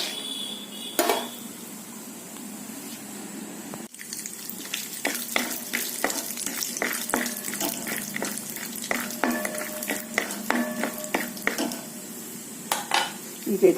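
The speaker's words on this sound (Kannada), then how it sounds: "ಮೊದಲಿಗೆ ಈ ಶೇಂಗಾ ತಗೊಂಡು ಇದನ್ನು ಫ್ರೈ ಮಾಡಿಕೊಂಡು ತೆಗೆಯೋಣ" Peanuts frying and being stirred in a pan, with scraping and clinking of a metal utensil against the pan and a faint sizzle, steady and close.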